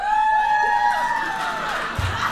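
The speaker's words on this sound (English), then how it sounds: "Wow, that's an awesome crowd." A studio audience at a dating show cheers, whoops and shouts together, loud and close, with high sustained whoops rising over the crowd noise for a couple of seconds.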